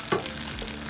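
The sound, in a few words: stirring coconut cream and blended mixture on high heat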